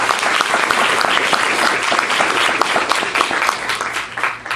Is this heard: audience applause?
yes